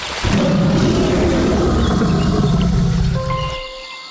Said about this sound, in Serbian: Kakav zvuk lav proizvodi?